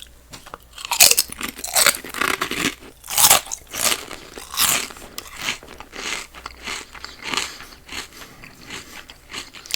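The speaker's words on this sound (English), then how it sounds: "Miss Vicky's kettle chips are very good and they're very crunchy" Crunchy kettle-cooked potato chips bitten and chewed close up in a whispered mukbang, with repeated sharp crunches and crackles in an irregular rhythm, loud and with no talking.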